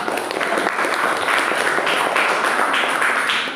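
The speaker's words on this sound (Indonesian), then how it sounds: "Tepuk tangan." Students in a classroom clap together after a correct answer, a steady, fairly close round of applause that swells slightly and then fades at the end.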